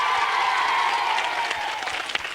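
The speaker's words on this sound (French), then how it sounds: "On peut les applaudir," A studio audience at a 1992 French children's television show claps steadily for a couple of seconds, a dense even patter with faint crowd murmur beneath.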